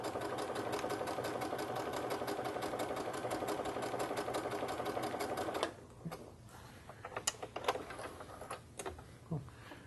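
A sewing machine stitches a lightweight fabric seam for a French seam in cotton thread, running fast and steady for about six seconds, then stopping, followed by scattered clicks and handling noises.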